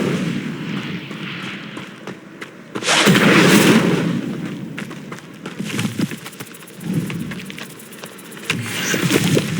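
Incendio fire spell cast in Hogwarts Legacy: a loud whooshing, rumbling burst of flame that swells and crackles, followed by further roaring fiery bursts and impacts from combat.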